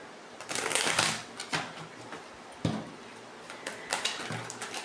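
Petit Lenormand cards, a Gilded Reverie deck, shuffled up close in quick papery riffles and soft slaps, with clustered bursts separated by brief pauses and no speech.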